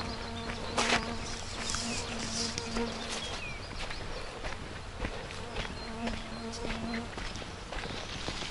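Mosquitoes whine and buzz around the listener outdoors during a rural trek, with a persistent thin drone of insects close by and faint rustling and movement underneath.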